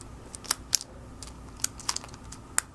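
Retractable Sharpie pens clicked by hand: a quick series of sharp, close plastic clicks, some in pairs, scattered irregularly over a few seconds with no talking.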